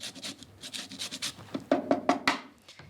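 Lemon being zested on a grater for a herby roasted zucchini dip, a run of short rough rasping strokes that start soft and grow louder and more distinct toward the end, close up with no talk.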